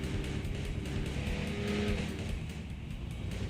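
The engine of a 4x4 vehicle in a video game revs as a continuous, busy motor drone with a wavering pitch. It is steady and fairly quiet, with no pauses.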